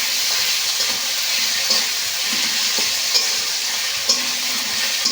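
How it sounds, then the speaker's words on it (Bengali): Garlic and ginger paste masala fries and is stirred in a pan for a Bengali egg curry, giving a continuous close hiss with faint scraping pulses. "রসুন বাটা 1 চামচ দিয়ে দেব। আদা বাটা 1 চামচ দিয়ে দেব। মশলা আবার ভালো করে কষে নেব।"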